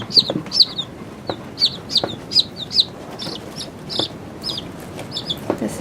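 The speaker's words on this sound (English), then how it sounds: "today is Easter, and we have Easter chicks" Newly hatched Easter chicks peeping in rapid, high, repeated chirps, close and clear, in short clustered bursts over a soft background hiss.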